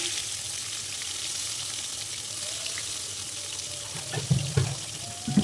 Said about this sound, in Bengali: তারপর ওই তেলের মধ্যে বেগুনগুলো ভাজতে দিয়ে দিলাম